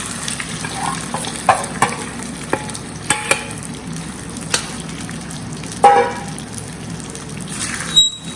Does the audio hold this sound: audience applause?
no